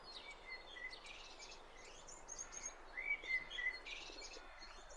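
Bird tweeting in a tree, with repeated bright chirps and trills that grow louder toward the end as the 3D sound seems to move closer, over a soft continuous background.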